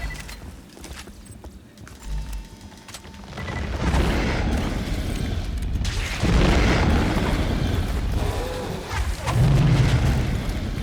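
Rocket launcher explosions in Borderlands 2 rumble through a loud, sustained barrage of booming blasts and debris, swelling from a quieter start into several heavy detonations under constant game noise.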